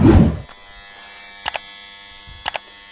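A well water pump motor hums steadily, with a loud thump at the start and two pairs of brief sharp clicks later.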